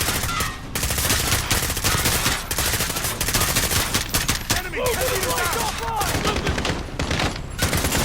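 Dense, rapid gunfire rattles through a Modern Warfare campaign mission, loud, close and nearly continuous with brief gaps, some shots overlapping in fast bursts.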